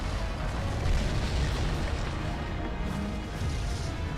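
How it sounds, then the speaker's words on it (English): Large barrel bombs go off in the hunting game Monster Hunter Frontier, a dense, sustained rumble of booming blasts filling the whole stretch at steady loudness, with no pause between them. "I was hoping I could put 1 large bomb plus, and 2 regular large bombs"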